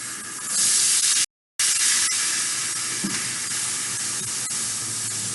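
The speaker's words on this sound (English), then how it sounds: "Okay, that garlic is ready to have those beans unite. You're going to hear a steam." A loud, steady hiss of steam and sizzling as beans are added to garlic in a hot pan, broken by a brief silent gap, then continuing evenly.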